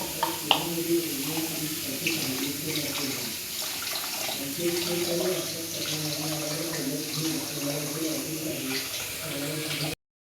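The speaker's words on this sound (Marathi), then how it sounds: "आता तांदूळ धुवून घेते" Tap water runs steadily into a vessel as rice is rinsed in a home kitchen, a continuous close splashing flow with light clatter that stops abruptly at the end.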